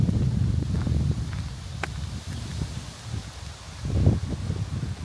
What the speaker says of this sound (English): It's just a little bit blustery, a little bit windy